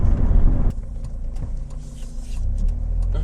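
Mercedes SLK roadster pulling away, a steady low engine hum and road rumble that dips after a loud opening moment and then swells again as it gains speed.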